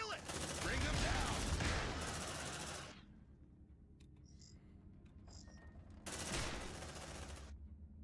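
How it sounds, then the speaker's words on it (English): Rapid automatic gunfire from the Aliens: Dark Descent video game, two dense bursts of loud sustained firing separated by a quieter stretch with faint electronic beeps. "Suppressive fire!"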